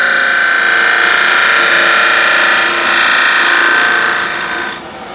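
A wood lathe spins while a turning tool hollows the workpiece, its bevel rubbing as it cuts, giving a continuous loud scraping hiss that holds steady and then eases off at the end.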